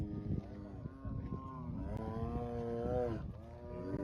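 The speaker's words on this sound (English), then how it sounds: "Are you mooing because you want to be one with the cows?" A tiger gives a low, drawn-out moo-like call that rises and falls in several long bellowing stretches at moderate loudness, with a voice briefly in the background.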